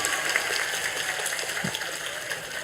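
Audience applause at a lively Ramadan comedy sermon, a short burst of scattered clapping heard fairly faintly for a couple of seconds.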